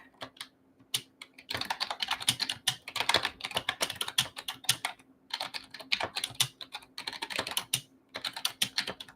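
Rapid keystrokes on a computer keyboard, close and fairly quiet, coming in bursts of steady clicking separated by short pauses, with no one speaking.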